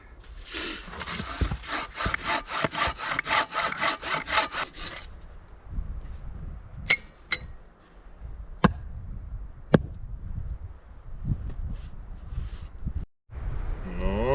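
A hand saw rasps through wooden logs in quick, steady back-and-forth strokes for several seconds, then stops; a few sharp knocks and handling noises follow.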